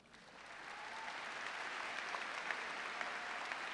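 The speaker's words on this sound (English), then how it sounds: "I want everyone to give themselves a round of applause." Audience at a high school graduation ceremony breaks into applause, the clapping swelling quickly from a soft start into sustained, dense crowd clapping heard from a distance in a large venue.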